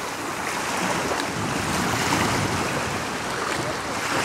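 Sea waves on the Sea of Azov at Primorsk, with a dog swimming nearby; steady, close surf and water wash with wind noise, continuous and fairly loud, no talking.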